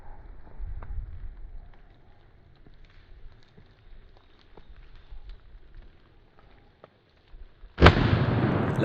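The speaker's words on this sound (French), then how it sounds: "Une balle d'achève sera tirée par mon voisin." A single loud, sharp rifle shot fired to finish a wild boar during a hunt cracks out near the end and rings off into the distance, after several seconds of quiet outdoor rustling and faint movement.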